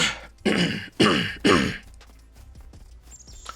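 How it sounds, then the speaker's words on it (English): Three loud, close throat-clearing bursts in quick succession from a man voicing a SCUM PVE survival game stream, followed by faint quiet background sounds. "sorry, I had to clear my throat there."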